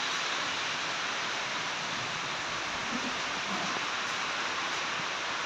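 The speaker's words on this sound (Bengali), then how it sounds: "দেখো প্রচণ্ড ঝড় হচ্ছে আমাদের এখানে আর বৃষ্টি" Heavy rainstorm with strong wind at a home in Bengal, a dense, steady hiss of pouring rain that stays loud and even throughout with no voices.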